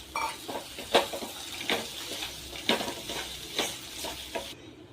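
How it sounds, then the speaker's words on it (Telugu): A spoon stirs dry fruits into milky kheer in a pot, giving repeated scraping clinks against the metal at a steady rhythm, close and fairly clear, with a faint sizzle underneath and no talking. "ఇప్పుడు మనం డ్రై ఫ్రూట్స్ని కూడా చక్కగా మిక్స్ చేసేసుకుందాం"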